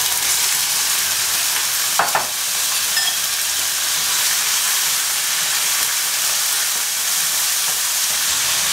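Marinated beef hits a hot pan and sizzles loudly as it is stir-fried, a steady bright crackling hiss throughout with a brief clatter of a spatula early on.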